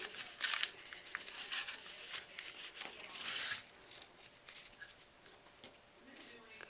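Scissors snip through paper for the final cut of a handmade envelope with a scalloped decorative edge: a run of close, crisp cutting rasps and light paper rustles at low volume.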